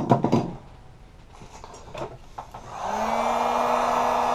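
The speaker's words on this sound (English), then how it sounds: "going to heat up this battery here. Make it a bit softer so it's easy to get out" Heat gun warming an iPhone 5 battery to soften its adhesive: a few close clicks and handling knocks, then the gun starts and holds a steady, loud whirring roar to the end.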